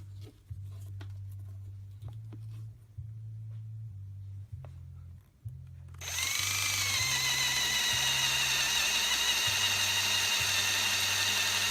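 A low motor hums in stuttering pulses, then a power drill spins up to a loud, steady high-pitched whine that holds to the end, drilling into cheap epoxy on a car handle repair, close and without speech.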